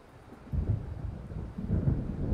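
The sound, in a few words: thunder and storm in Alan Wake video game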